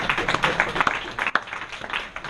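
Clapping for a workshop audience, a run of sharp, closely spaced hand claps mixed with room noise, one louder clap standing out, continuing steadily throughout.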